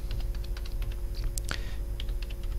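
Quick keystrokes on a computer keyboard while a Cisco router IP route command is entered, a steady run of close, crisp clicks with a sharper burst near the middle and no talk.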